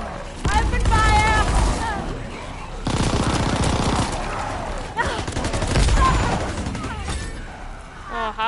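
Rapid bursts of automatic gunfire and booms in the Free Fire shooter video game, loud and repeated across several volleys, with a player talking excitedly over the shooting.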